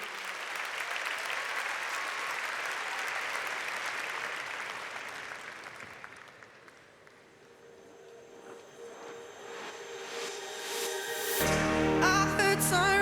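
Warm audience applause fills a large concert hall at a live peace prize concert, a dense steady clapping that swells and then fades as music begins to rise near the end.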